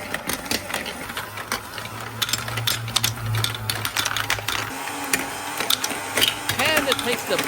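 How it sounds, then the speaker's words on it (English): Marbles roll and clatter down a giant marble run track with slides and a spiral, making a steady rattling patter of small clicks while a voice narrates over it. "the blue marble falls into the spiral"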